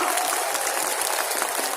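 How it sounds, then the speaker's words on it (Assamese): Audience at a political rally in Assam clapping together, a dense, steady wash of hand claps filling the whole clip at moderate distance with no voices over it. "আপোনালোকে সকলোৱে হাত তালি মাৰি এখেতক প্ৰতিশ্ৰুতি দিয়ক"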